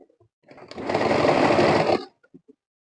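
A sewing machine stitches an organdy fabric flower in one burst of about a second and a half, a close, rapid mechanical whir between short quiet gaps with small handling clicks.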